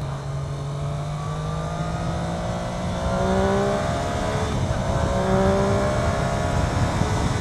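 A 2013-onwards Triumph Daytona 675 motorcycle engine revs through a corner, a steady close engine drone with rising and falling harmonic tones under loud wind rush, the pitch climbing and shifting as the throttle changes.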